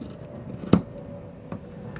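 Scissors snip through dress fabric while a milkmaid-style corset dress with a V-neck is cut out, giving one crisp close cut followed by a fainter second snip over quiet room tone.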